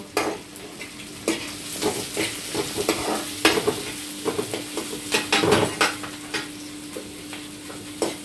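Chopped onion and green chilli sizzling in oil in a home kitchen pan while a spoon stirs, giving a steady hiss broken by repeated scraping clinks of the utensil against the pan.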